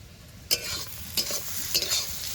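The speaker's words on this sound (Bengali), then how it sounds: "এদিকে সাবলাটা প্রায় ভাজা ভাজা হয়ে এসছে" Water lily stems stir-fried in a pan with a steady sizzle, broken by a few sharp scraping stir strokes about every half second to second, close and fairly loud with no talking.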